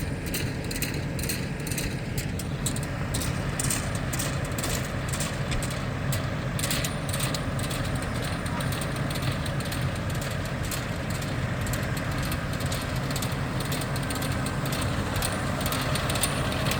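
Tractor-drawn hay tedder working a freshly mowed triple-mowed field, a steady mechanical rattle and clatter of rotating tines with a constant engine drone, continuous and fairly loud with no talk.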